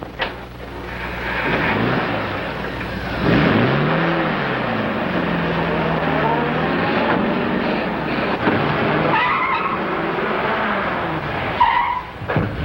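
A stolen car in a 1940 crime comedy roars away with its engine revving and tires squealing in rising and falling whines over about a dozen seconds, loud and close.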